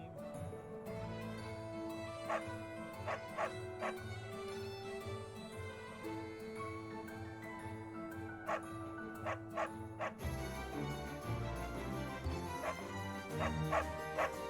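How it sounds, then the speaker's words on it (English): Dogs barking in the video game Fire Emblem Three Houses, a steady run of short, bright yips and barks repeating throughout over a dense, continuous bed of game music. "I'm literally hearing the sounds of dogs in the game"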